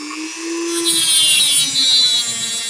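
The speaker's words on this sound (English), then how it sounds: "So we're just going to Dremel it off real quick." A Dremel rotary tool cuts through a length of music wire, throwing sparks. A high, steady grinding whine rises and holds for about a second, then tapers off under a faint motor hum.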